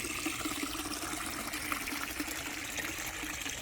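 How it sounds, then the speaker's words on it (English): Small garden water feature made of a galvanized bucket and half a wine or whiskey barrel, fed by a pump, trickling and splashing in a steady, soft stream. "behind me is another water feature that is so sweet and so prim"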